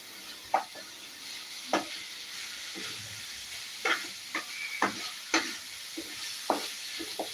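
A spoon repeatedly stirring a beetroot dish frying in a pan: a soft, constant sizzle broken by a dozen irregular scrapes and clacks against the metal, close and moderately quiet.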